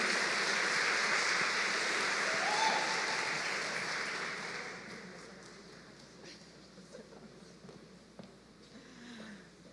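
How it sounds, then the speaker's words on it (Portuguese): A church congregation applauds loudly for several seconds, the clapping thinning and fading toward the end, with faint murmuring voices underneath. "Vamos dar um aplauso ao Senhor para a nossa pastora locutora"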